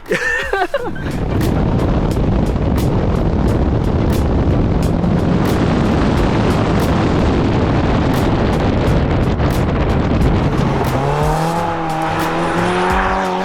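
A Caterham race car at full throttle, the engine roaring loud and steady close by after a brief start, rising in pitch and holding at high revs on a race circuit, with faint tire noise and no talking.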